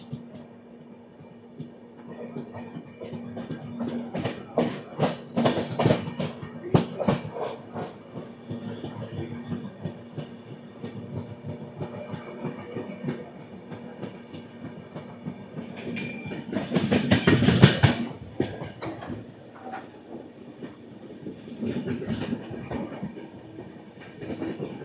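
Narayanadri Express 12734, running from Lingampalli to Tirupati, passes with a continuous rail rumble and rhythmic wheel clatter, and a brief louder rush midway before settling back to a steady hum.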